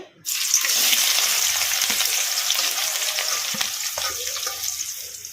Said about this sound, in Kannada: ಎಣ್ಣೆ ಕೂಡ ಬಿಸಿಯಾಗಿದೆ ಈಗ ಇದಕ್ಕೆ ಉಳ್ಳಾಗಡ್ಡಿ ಹಾಕೋಣ ಎಣ್ಣೆಗೆ